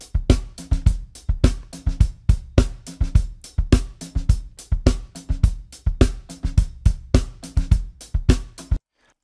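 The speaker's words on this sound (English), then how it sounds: "So this is dry without fission." A clean, dry drum loop plays with no processing, punchy kick and snare hits landing in a steady repeating groove for about nine seconds, loud and alone before stopping abruptly.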